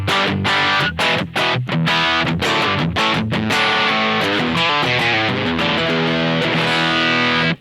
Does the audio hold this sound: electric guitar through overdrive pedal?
yes